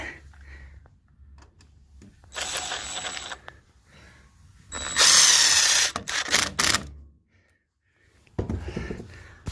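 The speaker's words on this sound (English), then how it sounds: "Screw goes through into my plug." A power screwdriver drives a screw into a wall plug while mounting an outdoor security light and socket, with two loud whirring bursts of a few seconds each separated by brief handling noises.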